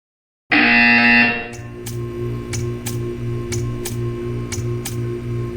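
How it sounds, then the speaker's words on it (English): A loud, continuous buzzer from the Portal video game sounds for about a second, then cuts to a steady background tone with regular ticking pulses, roughly once every half second, continuing to the end. "You will hear a buzzer."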